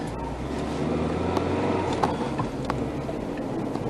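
A classic Austin Allegro pulls away on a Cornish country road after a cold start on choke, its engine a steady, rough drone with small bumps and rattles throughout, heard from inside the car.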